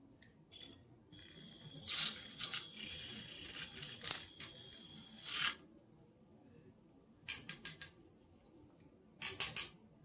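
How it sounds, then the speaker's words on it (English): A spoon stirs keto coffee in a cup, with bursts of high clinking and scraping against the ceramic, one long stretch followed by two short rattling flurries, close and fairly quiet with no talk. "So let's get it kind of stirred up"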